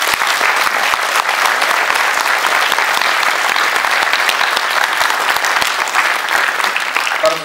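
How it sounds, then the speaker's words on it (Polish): Dense, steady applause from a large audience at a Passion play performance, loud and continuous throughout with no voices over it. "Wielkie brawa!"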